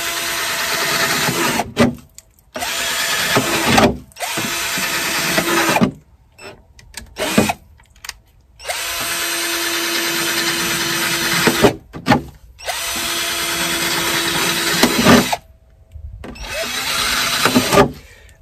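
A power drill bores holes through the bottom of wooden dresser drawers in repeated loud, close whirring bursts. Short silent gaps separate the bursts as the drill stops and restarts.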